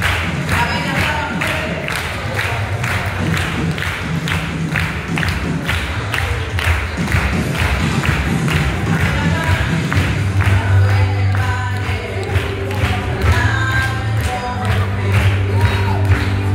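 Worshippers at a ninth-grade closing chapel service at a Christian school clap along in a steady rhythm for a long stretch, loud and continuous, joined by singing voices and music in the latter half.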